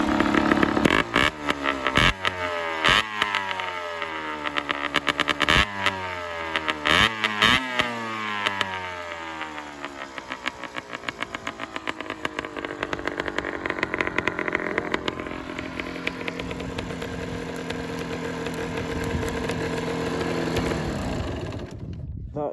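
A two-stroke motorcycle with a kickstarter, worn exhaust, bad swingarm and bad wheels runs loudly nearby, revved in sharp repeated bursts that rise and fall before settling into a steady, buzzing idle.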